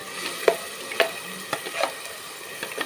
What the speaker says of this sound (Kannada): ಸೊ ಇದನ್ನು ಸ್ವಲ್ಪ ಎಣ್ಣೆಲಿ ಹಂಗೆ ಫ್ರೈ ಮಾಡ್ಕೊಳ್ಳಿ